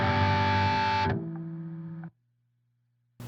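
Distorted guitar amp noise cut by a Pigtronix Gate Keeper noise gate: a loud buzzing drone drops to a quieter hum, then falls to near silence before a burst of noise returns at the end.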